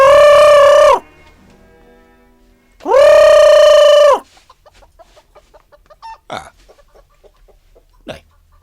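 Chickens on a family farm call in two loud, drawn-out squawks or crows, each about a second long, separated by quieter scattered clucks and short rustling knocks nearby.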